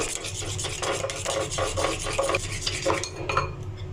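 Batter of egg, milk and flour being mixed in a bowl, a steady run of close stirring and scraping strokes in a fairly even rhythm, with no talk over it.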